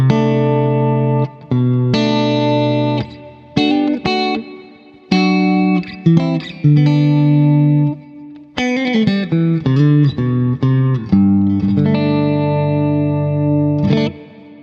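Electric guitar playing a clean tone through a Quad Cortex modeler with chorus, aiming at a particular guitarist's sound; loud sustained chords and melodic notes in phrases with short gaps, shimmering and spacious, no talking.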